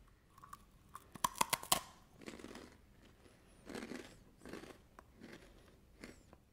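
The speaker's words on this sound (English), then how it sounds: "The outer shell is crunchy and has a chocolate flavor." Close crunchy bites into a chocolate-flavoured snack shell with a vanilla filling, a cluster of sharp crackles followed by softer rhythmic chewing, quiet with no voices.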